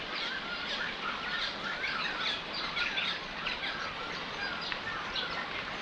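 Birds chirp and tweet continuously over a steady wash of insect buzz around a stream in Western Australia, with many small calls scattered at moderate distance and no talking.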